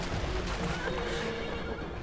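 A horse neighs and whinnies loudly and up close in the Black Desert Online video game, with a hoof clip-clop underneath and no talking.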